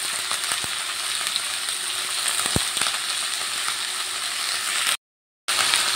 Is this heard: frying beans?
yes